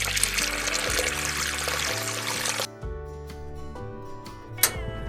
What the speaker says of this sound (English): I pour the water into the pot.